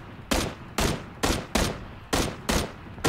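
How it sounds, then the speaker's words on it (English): Gunfire in PUBG Battlegrounds, six loud, evenly spaced single shots at a steady rhythm, each with a sharp attack and short decaying tail, close and clear with no talk over them. "I'm gonna shoot at him."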